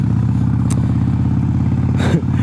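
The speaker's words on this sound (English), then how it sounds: "I'm revving it." A motorcycle engine revs steadily at close range, a continuous throaty drone with a brief clatter near the end.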